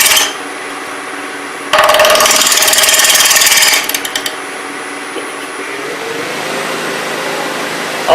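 A wood lathe runs at 800 RPM, a steady motor whine and hum with a loud, harsh burst of cutting noise near the start that drops back to the running drone.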